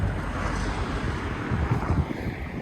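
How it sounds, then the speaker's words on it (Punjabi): Strong cold wind buffets the microphone outdoors on a cycling tour from Punjab toward Rajasthan, a loud, continuous low rumble with gusty swells and no voices. "ਹਵਾ ਕੋਦੀ ਆ ਜ਼ੋਰ ਲੱਗ ਰਿਹਾ ਠੰਡੀ ਠੰਡੀ ਹਵਾ ਲੱਗ ਰਹੀ"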